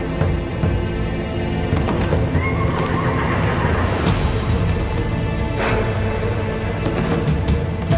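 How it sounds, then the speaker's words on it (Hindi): A horse neighs and whinnies with clip-clop hooves as it arrives riderless, amid a loud, busy battle-drama soundscape with rumbling music beneath, steady throughout. "शहजादे अलाउद्दीन का घोड़ा अकेला आ रहा है।"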